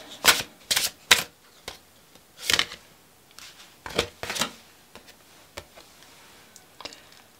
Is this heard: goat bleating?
no